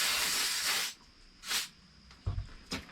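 Aerosol spray on the sawdusty bolts of a Husqvarna 455 Rancher chainsaw, starting with a long hissing burst and followed by a few shorter sprays, with light knocks between them, close and fairly quiet.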